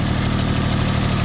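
A small farm tractor engine idles close by in a steady, loud, even rumble with a faint mechanical vibration, running alone without pause.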